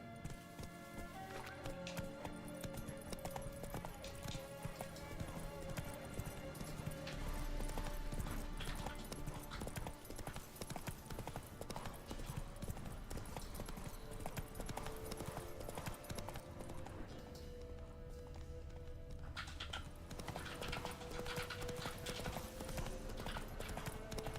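Roach the horse in The Witcher 3 clip-clops steadily at a walking pace, hoofbeats running continuously under game music with no talking.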